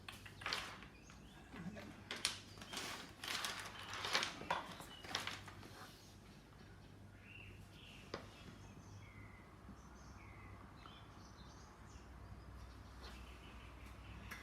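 Faint birdsong chirps in the background, with brief rustling and clattering sounds up close early on, all very quiet.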